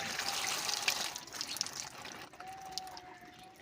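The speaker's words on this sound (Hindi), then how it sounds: "अच्छी तरह इसको पानी लगाओ।" Tap water runs steadily into a sink while leaves are washed one by one, a continuous splashing trickle close by that eases off partway through.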